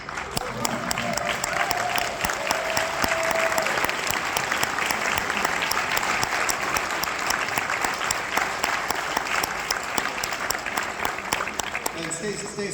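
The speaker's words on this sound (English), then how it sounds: "Seniors, stand up please so we can clap at you." An audience at a high school winter concert gives the senior students long, steady applause, a dense wash of clapping from a large crowd that holds for several seconds, with a brief tone and voices early on.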